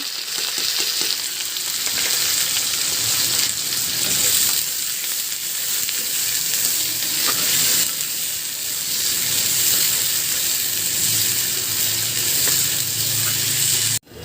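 Onion hitting hot oil in a pan for a chicken curry, a loud, dense, continuous sizzle with stirring, close and steady until it cuts off abruptly near the end.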